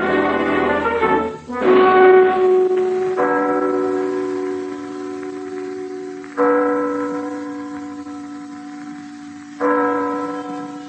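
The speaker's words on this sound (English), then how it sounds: "Listening to the hour striking in the bell tower of the town hall of Copenhagen, capital of Denmark on the Baltic Sea" The town hall bell tower in Copenhagen, Denmark strikes the hour, with several loud, resonant bell strokes a few seconds apart, each ringing out and slowly decaying.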